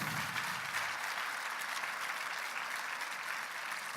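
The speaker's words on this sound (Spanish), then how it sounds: "Dale un aplauso de gloria a Dios." A church congregation applauds in praise to God, steady dense clapping that holds evenly throughout at moderate loudness with no talk over it.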